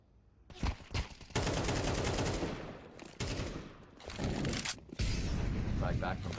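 Rapid AK rifle fire in a competitive Counter-Strike match, loud bursts of automatic gunshots with brief gaps and a commentator talking over the shooting.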